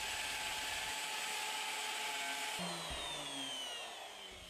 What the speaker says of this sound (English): Now position the jig to route the holes to the connecting bolts.